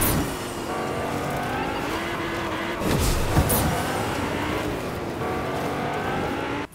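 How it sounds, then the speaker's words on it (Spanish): A very fast car in Fortnite battle royale roars steadily with a high engine whine that shifts pitch as it accelerates and revs, loud and continuous with no talking. "es un coche muy, muy rápido"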